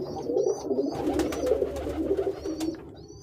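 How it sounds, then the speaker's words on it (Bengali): Several pigeons in a loft give repeated throaty coos, fairly loud and close, overlapping in a steady burbling chorus with a few sharp clicks. "অনেক সুন্দর কবুতরগুলো।"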